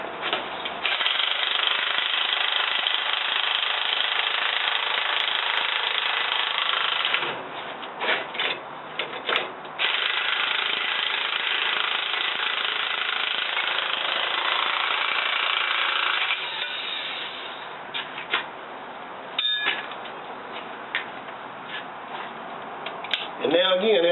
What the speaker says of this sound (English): I'm using an electric impact with a 1 1/8 inch end wrench to hold the bolt as we